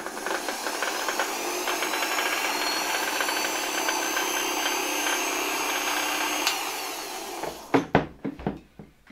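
An antique Electrolux 7 vacuum cleaner motor runs with a loud, steady high whine for several seconds, then cuts off, followed by a few sharp knocks and handling clunks.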